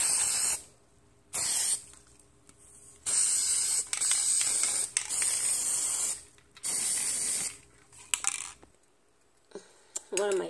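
Aerosol bursts of Rust-Oleum Hammered Finish black spray paint, several separate hissing sprays of a second or two each with short pauses between, close and loud.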